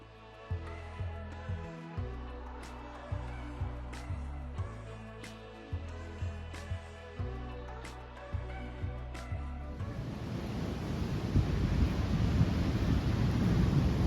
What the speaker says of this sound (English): this beach is known for sneaker waves. Powerful, unexpected waves that can be super dangerous